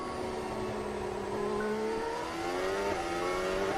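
An F1 race car accelerates hard out of a corner, its high engine whine climbing steadily in pitch, loud and continuous for a few seconds with no voices over it.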